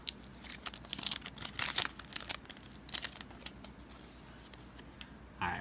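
A Magic the Gathering booster pack from D&D: Battle for Baldur's Gate being opened by hand, with crisp crinkling and tearing of the foil wrapper in quick, irregular bursts, close up and then easing off.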